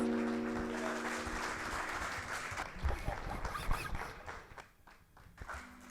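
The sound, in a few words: applause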